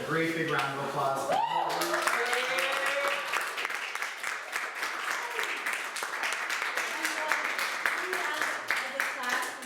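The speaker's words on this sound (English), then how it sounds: "A great big round of applause." A student showcase audience breaks into a round of applause, steady clapping running throughout after a short spoken lead-in, with voices talking over it.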